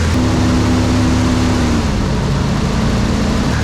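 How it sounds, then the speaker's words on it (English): A Nissan 300ZX engine idles steadily up close, a continuous loud mechanical hum with a faint whine that drops slightly in pitch partway through, no voices. "Now that it's idling, we're going to disconnect this oval sensor to reset where the actual position's at."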